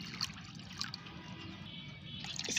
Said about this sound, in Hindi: मैं इसमें ये 3 भाग सादा पानी डालूँगी